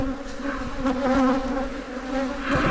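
Wasps buzz thickly around a large old hive, a dense, wavering drone of many insects close by, rising and falling without pause.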